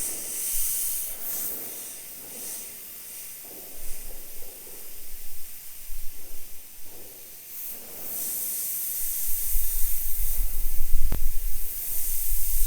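An airbrush sprays black paint mixed with transparent base onto a skull stencil, starting in the eye sockets, giving a close continuous hiss in bursts that swell and ease, with a low rumble near the end.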